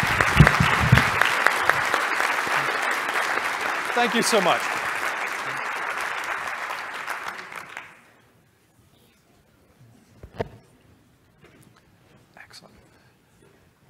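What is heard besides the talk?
applause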